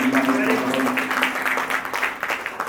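An audience in a hall claps at a book launch, a brief scattered patter of applause over a steady low electrical hum.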